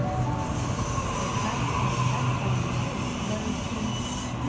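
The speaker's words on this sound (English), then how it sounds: "And we got another train arriving." A Sydney train arrives at Petersham station, rumbling steadily nearby with a continuous low roar and faint metallic squeal, sustained throughout without a break.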